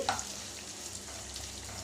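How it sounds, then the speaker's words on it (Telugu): Thinly sliced onion frying in a pan, a medium-sized onion cooked until lightly soft for jeera rice: a steady, close hiss and sizzle of hot oil, with no voices. "ఒక మీడియం సైజు పెద్దలపాయ సన్నగా కట్ చేసి పెట్టుకున్నాను బాగా ఎర్రగా ఫ్రై అవ్వాల్సిన అవసరం ఏం లేదు"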